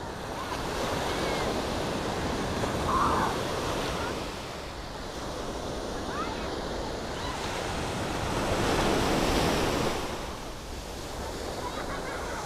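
Strong sea waves surging onto Cleopatra Beach in Alanya, Turkey, a steady loud roar of surf with swells building and easing, wind buffeting the microphone throughout and no voices.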